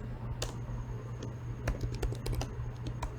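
Keys clack on a computer keyboard in short irregular bursts, close and crisp over a low steady hum, with brief pauses between runs of strokes.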